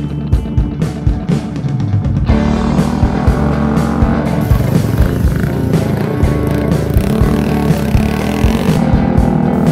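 A Mutt motorcycle engine runs loud and close with a thumping, uneven exhaust beat, revving up partway through and holding a busy, throaty roar.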